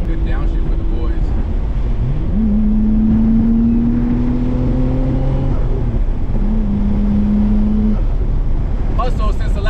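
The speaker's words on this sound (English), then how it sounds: "Good downshift for the boys." Nissan R33 GTR fitted with an HKS single turbo downshifting, engine note stepping through rising and falling tones, loud and close, with a brief pause before the revs climb again.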